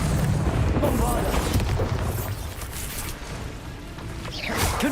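The Bombarda spell explodes in the video game Hogwarts Legacy. Loud, rumbling blasts and whooshing effects fill the scene, and a voice is heard over the chaos.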